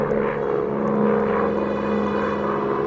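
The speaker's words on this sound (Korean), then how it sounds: "비행기 폭격이 온다" A bombing-raid airplane drones overhead in the Roblox game Evolution Survival, making a loud, steady engine hum with a constant tone and no break.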